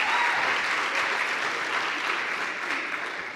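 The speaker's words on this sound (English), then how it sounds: "give Michael and Carrie a round of applause" Comedy club audience applauding at a grand opening night, a dense, steady wash of clapping from a full room that carries on loud throughout and eases only slightly toward the end.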